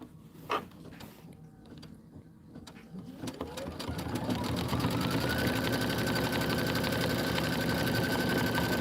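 An embroidery sewing machine stitches an autumn border design, with a few clicks and mechanical noises first, then the motor ramping up into a loud, steady, rapid stitching drone that continues to the end.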